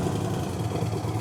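A custom-built motorcycle fitted with a full Dr. Jekyll exhaust system idles with a steady, low, rumbling engine note, close and moderately loud, with no talk.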